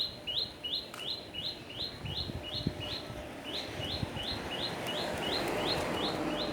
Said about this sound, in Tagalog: Dito yung mga ibon.